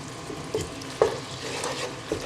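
Minced meat browns in a frying pan on high heat, a soft steady sizzle with a few light scraping stirs of a utensil, fairly quiet and close.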